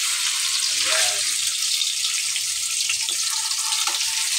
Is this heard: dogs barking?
no